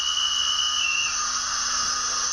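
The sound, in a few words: conductor signal whistle from Hornby A4 Pacific DCC sound model locomotive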